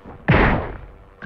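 A single loud pistol shot from the Hogs of War video game, with a sharp onset and a decaying tail lasting about half a second, followed by a faint thump at the end.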